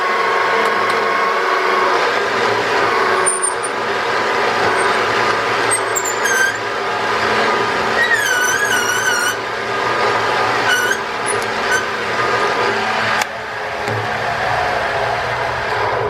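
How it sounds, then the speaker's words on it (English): Drill reaming a hole to size in the engine block of a Dodge Charger 440 V8 during a rebuild, a steady grinding whir with intermittent high squeals and chatter, loud and close, running almost continuously with brief changes in pitch. "With the drill that's going to ream it to size."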